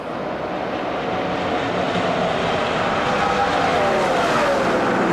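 NASCAR race cars roar past during the 2005 UAW GM Quality 500, a loud continuous engine drone with a rising whine as a car sweeps by, heard without talk.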